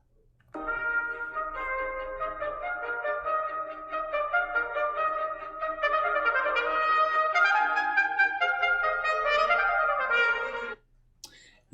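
A music example at a fast allegro tempo plays as a continuous stream of bright, tightly packed notes for about ten seconds, then stops.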